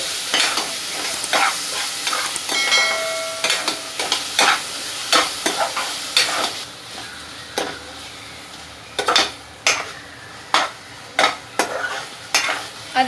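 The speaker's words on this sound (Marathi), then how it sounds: "आणि आता त्याला आपण व्यवस्थित मिक्स करून घेऊया." Chopped tomatoes are stirred into masala paste in a pan for dhaba-style chole, with repeated scraping spoon strokes over a constant hissing sizzle that pauses briefly and then resumes.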